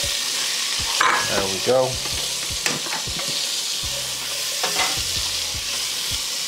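Celery and onions sizzle loudly in a pot while a spoon stirs and scrapes through them, a steady close frying hiss with a few clanks, and a brief spoken remark.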